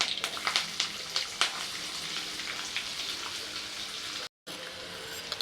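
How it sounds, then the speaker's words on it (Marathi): Onion frying in oil with mustard seeds, cumin, asafoetida and curry leaves in a pan, a steady close sizzle with sharp crackling pops early on and a brief dropout near the end. "तेल टाकल्यावर त्यात घालूया थोडी मोहरी जिरा पण वाटताना घेतला आहे थोडासा हिंग कढीपत्ता आणि कांदा"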